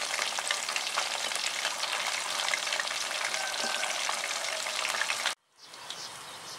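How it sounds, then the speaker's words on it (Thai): White log mushrooms deep-frying in a pan of hot oil, a dense, loud, continuous sizzle and crackle up close that cuts off abruptly near the end before a quieter sizzle resumes, no talk. "ทอดไปเรื่อยๆครับนี่คือทอดเมนูเห็ดขอนขาวครับ"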